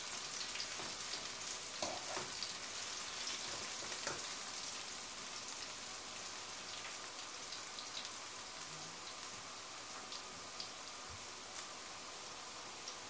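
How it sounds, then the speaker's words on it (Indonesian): Tempeh pieces fry in hot oil with a steady bright sizzle and scattered tiny pops, a continuous, moderately quiet crackle with no voices over it. "Goreng sampai ke warna agak kecoklatan."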